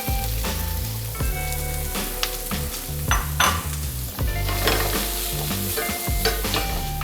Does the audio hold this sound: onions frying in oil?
yes